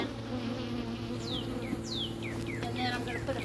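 Bees buzz steadily around an open beehive during an inspection, a continuous close drone with a few faint chirps over it.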